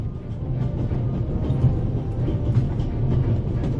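The Orient Express, running from Paris to Istanbul in the game The Raven, rumbles steadily with a low, even rolling drone and faint rhythmic clatter, close and continuous, with no talking.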